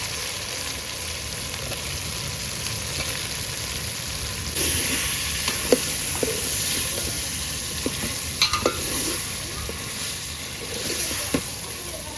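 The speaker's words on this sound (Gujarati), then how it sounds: "હવે આપણે થોડું કાચું લસણ નાખી દઈશું" Raw garlic sizzling in a pan of oil while a fish curry is cooked, a steady frying hiss punctuated by several sharp clinks and scrapes of a spoon against the pan.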